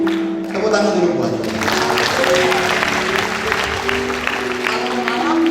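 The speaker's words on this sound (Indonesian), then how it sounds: "Tepuk tangan dulu buat." A congregation at an evening miracle church service breaks into applause, the clapping rising quickly and continuing under a sustained tone and a voice speaking over it.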